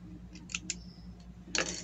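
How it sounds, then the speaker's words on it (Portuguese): Scissors snipping through fabric for a cloth rabbit and carrot decoration, a handful of crisp close snips, sparse at first and then a quick burst toward the end, with no talking. "Vamos cortar o biquinho aqui"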